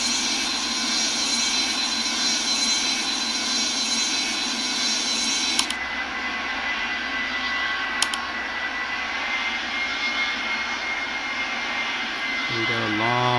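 A steady, loud airplane engine drone from the Real Flight Simulator game by Rortos runs throughout, with a couple of brief clicks and a rising tonal sweep near the end.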